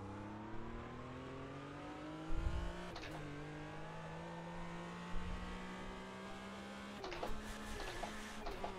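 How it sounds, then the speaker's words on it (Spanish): Race car engine in Automobilista 2 revving and climbing through gears with a sharp cut at a botched, stuck shift between gears, followed by further abrupt shift breaks, steady sustained engine whine throughout. "Vaya, la liado con la caja de cambios."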